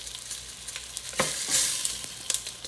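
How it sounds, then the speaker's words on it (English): Mango and habanero hot sauce ingredients sautéing in a pan, a steady soft sizzle broken by quick scraping stirs and light utensil taps, with no voices. "We're not cooking it, guys, as of yet. We're just giving it a nice saute."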